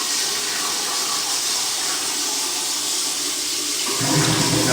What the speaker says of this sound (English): Let's do a flush test here.